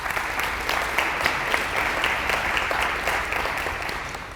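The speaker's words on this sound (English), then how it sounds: "give Locust Grove an incredible round of applause" An audience at a school district community presentation giving Locust Grove a sustained round of applause, even dense clapping held for several seconds with no voices over it.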